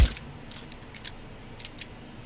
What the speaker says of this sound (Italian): è il suono della ricarica.